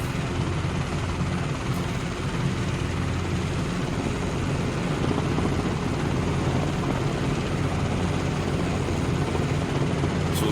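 Simulated Robinson R22 helicopter in the CowanSim flight simulator, a steady loud rotor and engine drone holding constant throughout with a close, unbroken engine hum and no voice.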